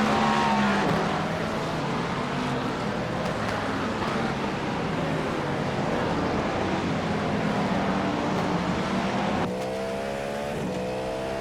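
Race cars in iRacing rounding the Corkscrew while overtaking slower GT3 cars, a loud continuous engine drone with rising and falling revs and gear changes, plus a sharp shift in engine tone near the end.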